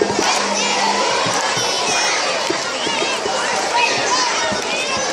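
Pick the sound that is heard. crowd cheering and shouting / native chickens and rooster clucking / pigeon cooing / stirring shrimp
crowd cheering and shouting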